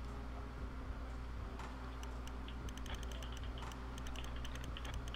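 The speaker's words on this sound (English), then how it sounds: "if you hear that clicking sound, that's the speaker, me turning the knob" Rapid small clicks from turning the speaker knob on a Wii remote while playing Silent Hill, coming in quick irregular bursts over a steady electronic hum.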